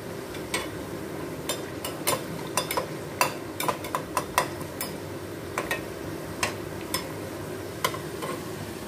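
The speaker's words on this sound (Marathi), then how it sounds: "ह्या अशा पद्धतीने पूर्णपणे तेलामध्ये तळून घेऊन मगच त्या बाहेर काढायच्या आहेत" Matar kachori, green-pea stuffed pastries, deep-frying in hot oil over a medium flame, a steady low sizzle broken by frequent sharp pops and spatters, no voices.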